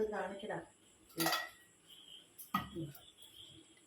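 Karkidaka kanji, a Kerala monsoon porridge, is stirred in a pot: a brief voice at the start, then a few sharp metallic clinks and scrapes of a spoon against the pot in two short bursts.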